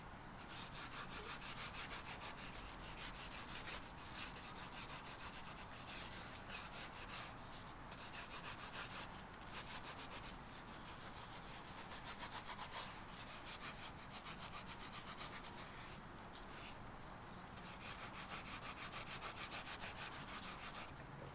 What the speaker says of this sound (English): you could get your purple scuffing pad and scuff up the whole thing